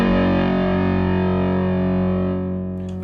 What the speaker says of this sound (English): You see when I turn this one, the drive is going up, so you can dial a much meaner sound.